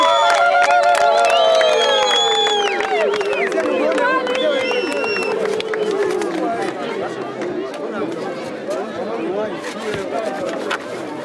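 At a groundbreaking ceremony in Bweremana, a large crowd cheers and chatters, with high, wavering ululations rising above the babble at the start and fading into a dense, steady roar of voices.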